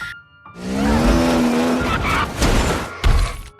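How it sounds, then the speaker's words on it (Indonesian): A car engine in the film Carrie is floored and screams at high revs beside squealing tires and a crunching impact, loud and close, in short bursts over a few seconds. "Chris terus menekan gas mobil itu hingga Carrie menjatuhkan mobil itu"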